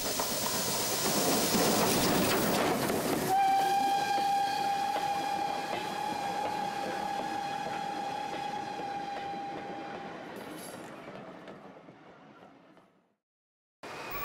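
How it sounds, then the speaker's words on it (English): A heritage railway van train of assorted vans with a British Railways freight gangway coach at the rear rolls in at the Llangollen steam festival, a loud rumble with a long whistle tone that fades away to near silence. "The van train consists of a number of assorted vans and includes a British Railways freight gangway coach at the rear."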